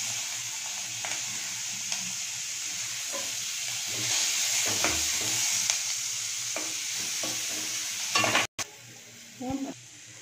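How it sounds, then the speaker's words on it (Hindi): Finely chopped onions frying in a spoonful of butter in a kadhai (wok), with a steady sizzle and occasional stirring scrapes running throughout, close and fairly loud. "फिर इसमें प्याज हम एक बारीक कटी हुई रखे थे उसको डाल देंगे।"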